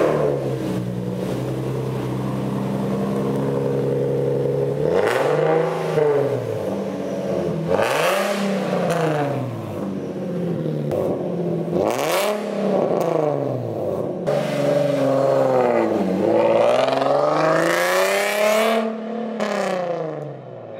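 A Nissan 370Z engine fires up and is revved hard in repeated loud bursts, each rising wail dropping back to a rough idle, close by with no talking.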